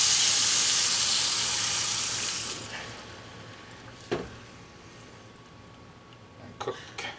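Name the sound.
stock added to hot pan, sizzling and steaming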